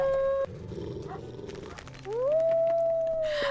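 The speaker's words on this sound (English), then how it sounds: "He's got the super squeaky howl." A wolf in the video game WolfQuest gives a high, squeaky howl that rises and then holds a long, steady tone near the end, after a shorter tone at the start over soft background noise.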